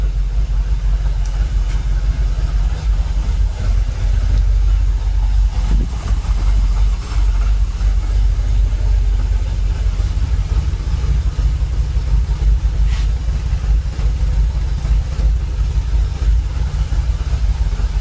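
A Jaguar XKR's engine idles at roughly 700 RPM, a steady low rumble running unbroken and fairly loud throughout, with no one speaking over it.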